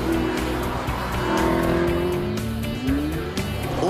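An Alfa Romeo 8C Spider convertible with a 4.7-litre V8, driven hard in Gran Turismo 5, its engine note rising and falling through quick gear changes, with brief tyre squeal and no talking.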